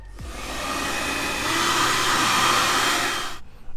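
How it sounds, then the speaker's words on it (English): A hair dryer blows steadily and loudly at close range for over three seconds, drying putty on a resin art toy, then cuts off abruptly near the end. "I did use a hair dryer and then let it dry for an hour."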